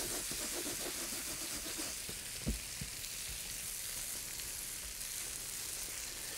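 Blackened salmon sizzles steadily in a hot pan, a quiet, continuous frying hiss with a couple of faint clanks partway through.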